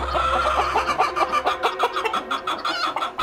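Chickens on a poultry farm squawk and cluck loudly in quick, overlapping bursts, a dense, agitated flock calling close by without pause.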